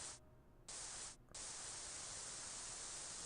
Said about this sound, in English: Suddenly, white noise filled the cafe's TV.